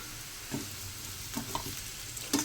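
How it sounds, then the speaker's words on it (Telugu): Wheat semolina fries in oil in a pan for upma, a low constant sizzle with a few soft stirring scrapes and taps, close and fairly quiet. "మనం ఈ రవ్వ అనేది దీని ఆయిల్లో కొద్దిసేపు వేయించుకుందాము."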